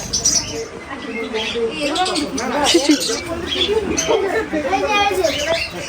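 Lovebirds and other caged birds chirp and tweet in a bird shop, bright squeaky calls scattered through the clip under close, continuous chatter from people browsing.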